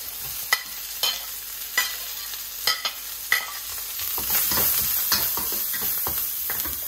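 Onions frying in a pan for Thai chilli beef, a steady close sizzle rising in the second half, broken by several sharp clicks and scrapes of stirring early on.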